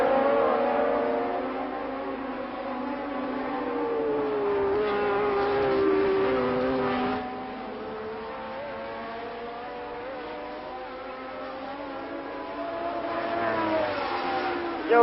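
A 1972 Formula 1 race car circuit's engine note rises and falls in long revving sweeps, a high buzzing whine carried steadily across the lap, heard at a distance through an old broadcast recording.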